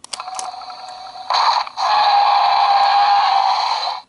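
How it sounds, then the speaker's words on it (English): A Mattel Jurassic World Fallen Kingdom Roarivores Allosaurus toy plays a button-triggered electronic T-Rex roar from its small speaker: a few short growls, then a long, loud, harsh sustained roar that cuts off abruptly, with no talking. "we get a T-Rex sound effect"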